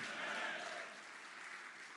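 Crowd of party workers applauds at a political foundation-day address, a steady wash of clapping heard faintly and at a distance for two seconds.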